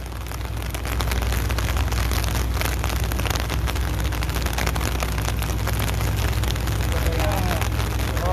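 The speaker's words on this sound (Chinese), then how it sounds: "超大雨，超大雨啊嘛" Heavy rain pours steadily on an outdoor street in Cheung Sha Wan, Hong Kong, forming a dense, constant hiss over a low rumble while voices talk faintly in the background.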